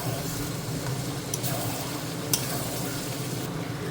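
Steady, even sizzle of mutton ghugni cooking in a pan as pre-fried potatoes are added, with a soft hiss throughout and a single sharp clink partway through.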